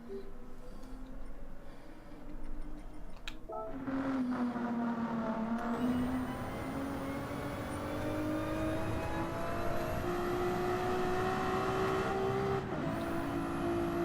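Race cars on the Nürburgring Nordschleife, a Ferrari among them: a close engine note climbs steadily as a car approaches and holds a rising pitch while passing loud and near, with more engine noise and a brief change in tone near the end.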